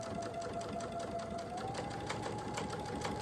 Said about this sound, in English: you'll flip it over, and you'll start stitching